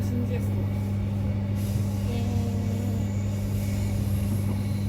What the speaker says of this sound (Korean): 퇴근 기차.